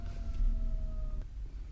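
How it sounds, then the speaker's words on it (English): A siren holds steady, level tones through most of the stretch and cuts off suddenly near the end, leaving only a low rumble of background noise; no one speaks. "there's some kind of siren, so I got to stop it here"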